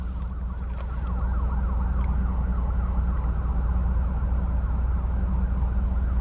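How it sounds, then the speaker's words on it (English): An ambulance siren wailing in a steady rising-and-falling cycle over a low vehicle engine rumble and traffic noise, continuous and fairly loud throughout, with no talking. "I do hear another ambulance coming."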